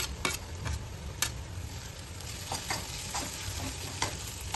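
Green chillies and a little ginger sizzle in hot oil in a pan for paneer bhurji, a steady frying hiss broken by several sharp stirring scrapes, with no talk.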